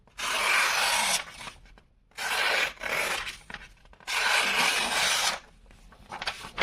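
A Ruike Criterion Collection S22 multifunction knife saws through something in four rasping, scraping strokes, each about a second long, separated by brief pauses.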